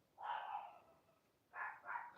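Two dogs bark faintly in the distance, a short run of muffled yips at first and then a couple more quick barks after a pause.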